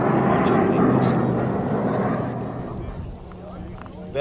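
Swiss Air Force Pilatus PC-21 turboprop trainer in a flying display at AXALP 2022, a loud broad engine roar that slowly fades as the aircraft passes, with a commentator talking over it.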